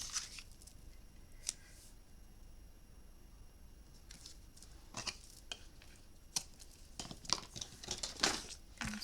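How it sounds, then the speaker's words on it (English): Scissors snip paper while trimming pages for a handmade memory book, a series of sharp close cuts in irregular bursts with pauses between them, crisp and clear against a quiet room. "my scissors."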